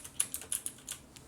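Computer keyboard keys are pressed in a quick, uneven burst of about eight light clicks, close and alone, while moving the camera in a trading strategy game.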